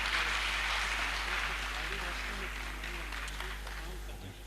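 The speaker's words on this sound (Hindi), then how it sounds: "जनाब सुरेंद्र चतुर्वेदी साहब आएँ और तालियों से इस्तकबाल कीजिए" Audience applause welcoming the poet Surendra Chaturvedi to the stage at a mushaira in Sri Ganganagar: a dense, steady wash of clapping that fades slightly over four seconds, with a low hum beneath.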